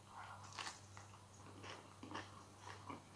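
Someone eats a homemade autumn pizza topped with green tomatoes from the garden, with soft close chewing and crunchy bites repeating irregularly over a low steady hum.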